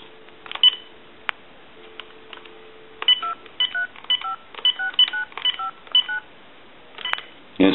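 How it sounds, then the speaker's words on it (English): An old candlestick and bell-box telephone gives a steady dial tone, then a quick run of touch-tone dialing beeps in uneven bursts, close and clear, followed by a faint busy or ring signal. "I'm going to give you some dial tone."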